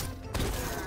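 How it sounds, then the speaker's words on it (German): A strong gunshot in a video game, a single loud blast that jumps out sharply and then carries on as a sustained rumbling boom to the end. "Da habe ich einmal so einen ganz starken Schuss."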